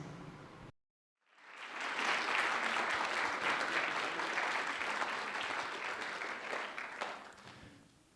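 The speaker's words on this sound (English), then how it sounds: "we were just clapping to a screen" Audience clapping after a screened video at a storytelling event, starting after a brief silence and holding as a steady, full round of applause before tapering off.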